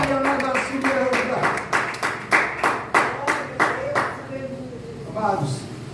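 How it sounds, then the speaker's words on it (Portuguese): Congregation in a Portuguese-language evening church service clapping hands in praise, a steady rhythmic beat of many palms with singing voices over it, thinning toward the end. "louve o Senhor com palmas, glorifica o Senhor com as palmas nessa noite"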